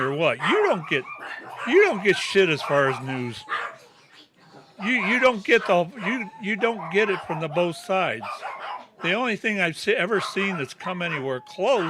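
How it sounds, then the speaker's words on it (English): Dogs bark and yip now and then in the background while someone talks continuously over them about getting only half the news story. "Sorry about the dogs here."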